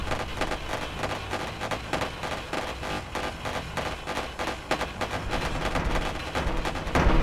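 Ship weapons in Wayward Terran Frontier firing in rapid, evenly spaced repeating shots, a steady mid-loud stream of gunfire that runs the whole time without speech.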